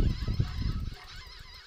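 Chickens squawk in the video game Chicken Invaders: a loud, honking burst of fowl cries over dense game noise, fading to a softer murmur of sound effects.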